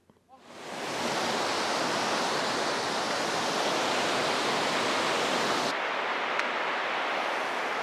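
Outdoor stream water rushing continuously, a dense loud hiss that swells in within the first second and holds steady close to the microphone, with no voices.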